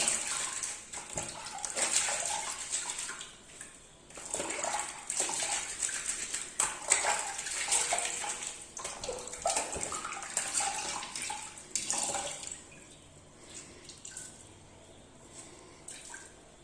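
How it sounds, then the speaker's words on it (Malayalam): Water sloshes and splashes in bursts as a tea-stained item is scrubbed and rinsed in a basin of clean water, with brief pauses between strokes. "ഇനി ആ നല്ല വെള്ളത്തിലേക്ക് ഞാനിത് ഒന്നുകൂടെ ഒന്ന് കഴുകി കാണിക്കാം"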